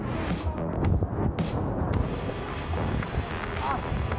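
Strong wind buffeting the microphone during a mountain bike ride, heavy low rumbling gusts, continuous throughout, with faint background sounds mixed in.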